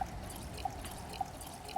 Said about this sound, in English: fill this water bottle up